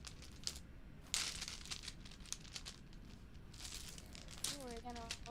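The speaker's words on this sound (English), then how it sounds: "Give me a second as I go through my big bag of dice." A big bag of dice is rummaged through close by, producing faint crinkling of the bag and soft clattering of plastic dice, with a brief rise in loudness partway and a short voice near the end.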